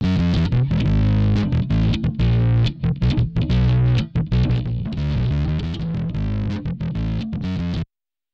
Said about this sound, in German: Das ist einfach so eine Simulation von einem relativ berühmten Gitarrenverstärker, der ziemlich klasse ist, wenn man Sachen so richtig kaputt machen möchte.